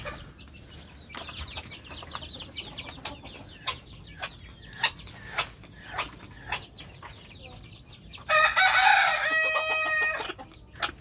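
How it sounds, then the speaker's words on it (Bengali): Hens cluck in short, scattered calls, faint to moderate, followed near the end by a louder, drawn-out cackling burst. "ওই যে আরেকটা মুরগি বসে আছে।"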